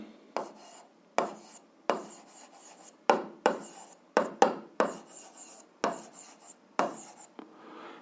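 Pen or pencil strokes on paper while a math solution is written down, a series of short raspy scratches in uneven bursts with brief pauses, close and fairly quiet, no talk.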